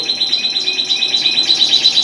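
Red factor canaries chirp and twitter continuously in an aviary during the moult at the end of breeding season, a dense, steady chorus of bright, close calls with no voices.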